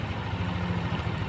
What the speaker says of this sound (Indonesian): Kita matikan mesinnya